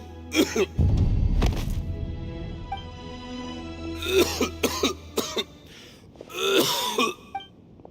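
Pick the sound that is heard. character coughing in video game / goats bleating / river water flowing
character coughing in video game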